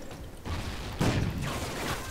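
Gunfire in the video game Call of Duty: Ghosts during a Gun Game match, a dense burst of shots with a louder cluster at mid-clip, heard close and without talk.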